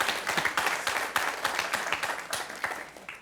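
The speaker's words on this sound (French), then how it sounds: "ça s'applaudit." Studio audience applause on the French TV quiz show Questions pour un champion during the face-à-face round: a steady, dense burst of many hands clapping, fairly close and continuous for a few seconds, with no talk over it.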